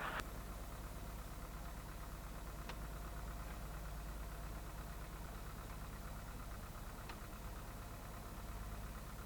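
The engine of an experimental Cozy aircraft runs steadily before takeoff, a low, even droning hum heard from inside the cockpit, with a couple of faint clicks over the constant rumble.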